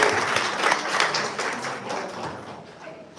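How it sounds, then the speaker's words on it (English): A synagogue audience applauds for a NASCAR driver and four-time European champion, a steady wash of many hands clapping that carries throughout and slowly tapers toward the end. "So one more round of applause for Alon."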